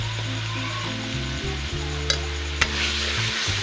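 Chopped frozen green peas frying in a pan, a steady close sizzle with stirring scrapes and a couple of sharp utensil clicks against the pan, with no talking.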